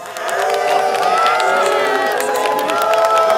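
A hostile crowd in a French banlieue presses close around a visiting politician, a loud, dense mass of shouting and jostling voices with no letup.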